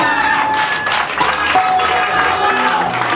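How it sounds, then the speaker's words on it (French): An audience claps in sustained applause at a live event in Kinshasa, with voices mixed in among the clapping. "La vraie famille, applaudissez pour elle, s'il vous plaît."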